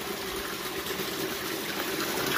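Water streams out of a T-fitting on a DIY pond filtration system fed by a pump through a strainer, a steady close trickling gush that goes on without a break.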